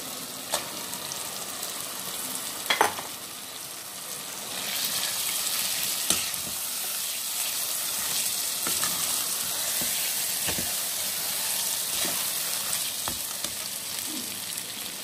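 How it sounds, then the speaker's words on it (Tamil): Marinated mutton dropped into a pan of sizzling onion-tomato paste for mutton kurma, a loud steady frying hiss with a few scraping stirs and clinks, close and without talk. "மட்டனை அப்படியே அதில் போட்டுடலாம்."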